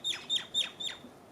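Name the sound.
birds chirping while getting food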